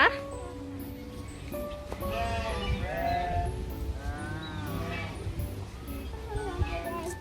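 Sheep at a sheep farm in Nakhon Nayok, Thailand, bleat in wavering calls amid farmyard noise, with people talking nearby throughout.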